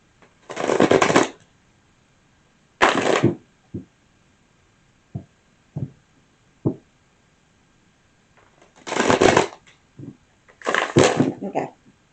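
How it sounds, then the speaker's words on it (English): Tarot cards shuffled by hand in several quick bursts, brisk riffling rustles with soft taps and knocks of the deck in between, close and fairly loud with no talk. "We'll give it two more shuffles."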